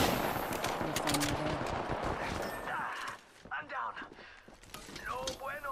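Bursts of gunfire in the battle royale game Apex Legends, a dense stream of rapid shots over the first three seconds, then scattered quieter game sounds.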